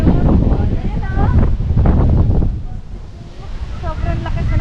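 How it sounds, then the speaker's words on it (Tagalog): Strong gusts at Sampaloc Lake batter the microphone in loud, uneven roaring bursts that ease briefly before building again, with faint voices underneath. "Sobrang lakas na guys ng hangin ngayon."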